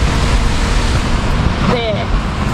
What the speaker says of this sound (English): there's so many big waves